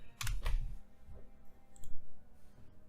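A few sharp mouse clicks and light keyboard taps on a computer, close and fairly quiet, in a short burst with gaps between, no talking.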